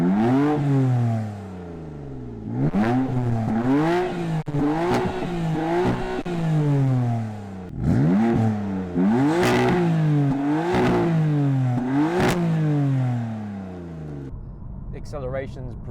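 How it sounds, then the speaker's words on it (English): A 2014 BMW M4 with a turbocharged engine and sports exhaust, heard as repeated hard revs and upshifts, each rising sweep cut short by a gear change, with brief pauses between bursts, close and loud. "Speaking of exhaust, let's have a listen to what the M4 sounds like."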